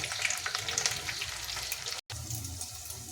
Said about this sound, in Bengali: এই দেখ, দুই দিকটা লাল লাল করে ভেজে নিচ্ছি